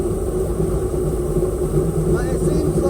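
A cammed airboat engine idles at about 750 RPM during basic carburetor tuning, a loud, steady, slightly rough rumble close by throughout, with voices talking over it.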